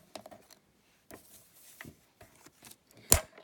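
A paper trimmer slices paper for a mini Easter basket, with soft scattered rustling and taps of handling before one short, sharp chop of the blade near the end.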